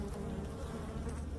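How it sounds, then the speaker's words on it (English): A swarm of honeybees buzzes close by in a dense, steady drone, continuous and fairly loud throughout the short moment. "lots of bees."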